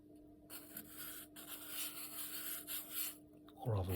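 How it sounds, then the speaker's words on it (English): Steady rasping rub of a file worked in figure-eight strokes across a small printed part for a low-cost robotic hand, close and continuous with soft rhythmic swells, a brief louder scrape at the end. "rather than sanding the surface flat, you turn it in figure eights"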